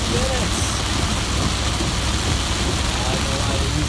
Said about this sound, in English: It has been raining like this for the last 15 minutes.